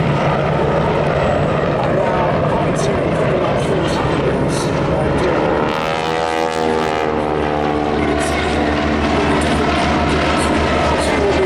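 Historic army helicopters fly together in formation at the Duxford air show, a steady, loud rotor and engine drone that never lets up. The pitch sweeps audibly as the aircraft pass overhead.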